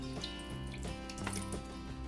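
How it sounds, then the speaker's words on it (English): Water is poured into a cooking pan with a soft trickle and a few drips, faint under a steady background hum and a tonal drone. "Then in a pan we add some water"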